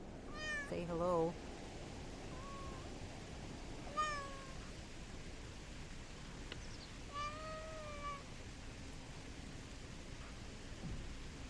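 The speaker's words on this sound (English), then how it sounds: "There, everyone got to hear my kitty." A pet cat meows several times, its high wavering calls sounding close over a steady hiss of background noise, with short gaps between the cries.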